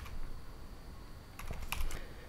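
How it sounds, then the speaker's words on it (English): Keys clatter on a computer keyboard while a search term is typed into Blender, a quiet patch first and then a brief burst of close, crisp clicks with no talking. "you can just type on your keyboard like you would in like the search browser"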